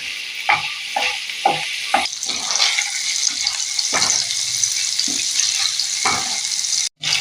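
Paneer cubes dry-roasting in oil in a pan give a steady, loud sizzle, broken by several sharp clanks and scrapes as the pieces are stirred and turned.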